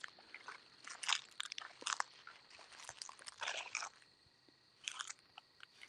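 Footsteps crunch through dry fallen leaves on the outskirts of Punxsutawney, Pennsylvania, in irregular close bursts of crackling and rustling with brief quiet gaps between steps.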